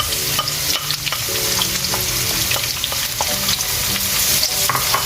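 Two medium chopped onions frying in a pan for daalcha, a steady loud sizzle with scraping stir strokes and clinks throughout, no voices.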